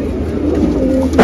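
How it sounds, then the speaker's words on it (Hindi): Pigeons cooing in a coop of fancy breeds, including red, green and copper-toned birds, with steady low coos close by and a brief brighter rustle at the end. "सारे बेहतरीन लाजवाब कबूतर है इसके अंदर भी"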